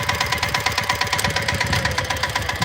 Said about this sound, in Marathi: तर मित्रांनो बघा ट्रॅक्टर आहे